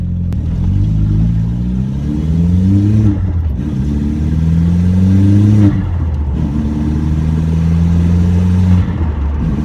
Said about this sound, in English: I love that turbo sound, the blow-off valve noise.